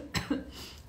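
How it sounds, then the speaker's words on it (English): A single sharp cough from a woman, close and brief, with a short second burst right after. "that was a real cough"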